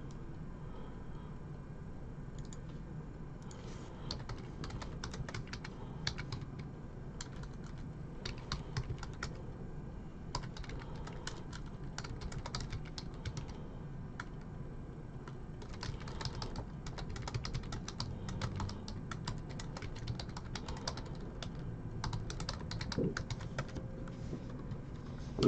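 Someone types on a computer keyboard for an online chat, heard as quiet, close clusters of light key clicks in irregular bursts with short pauses, over a soft room hum and no talking.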